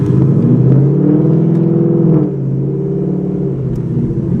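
A 2019 Mustang GT V8 engine with a cam tune rumbles loudly with a deep, throaty tone, revving briefly before settling into a lower idle-like burble.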